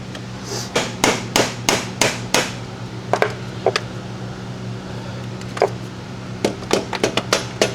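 A hammer strikes a BMW E90 starter motor in a burst of about seven sharp, close metallic blows, then scattered lighter taps over a steady low engine-bay hum.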